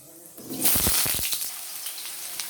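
Potatoes tipped into hot oil with black cumin in a kadai hit with a sudden loud splash and burst of sizzling, settling into a steady, fairly close frying hiss.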